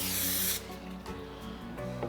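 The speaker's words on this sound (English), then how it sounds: "just to prevent a little sticking, I'm just going to spray my crisper" Cooking spray hisses onto an air fryer crisper tray in one loud, close burst lasting about half a second, followed by quieter kitchen handling sounds.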